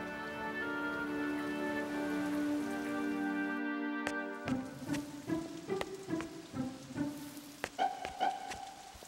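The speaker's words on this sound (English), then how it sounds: "It rained and rained like it would never stop." Steady rain pours down during a cartoon retelling of Noah's flood, a continuous soft hiss running beneath sustained musical tones that shift into a series of plucked notes.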